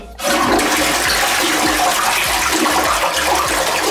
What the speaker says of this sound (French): on va quand même retirer la chasse d'eau